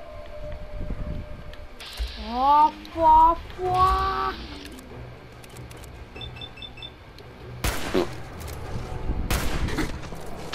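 Gunfire in the video game Fallout 4: two sharp, loud bursts near the end, preceded by rising, whining electronic tones and a faint mechanical hum.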